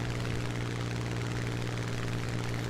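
Steady droning hum of a propeller fighter plane's engine in War Thunder, a realistic air battle, holding an even pitch throughout with no speech.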